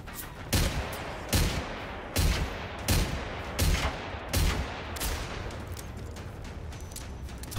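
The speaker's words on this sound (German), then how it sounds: "Hey, die ist sogar genauer wie die andere Pistole" Pistol gunfire in the video game Generation Zero: seven sharp, evenly spaced shots, loud and close, about one every three-quarters of a second over a low background hum.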